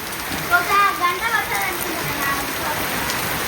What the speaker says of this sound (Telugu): పెద్ద వర్షమే లే ఓ మొత్తం చుట్టూ కమ్ముకుంది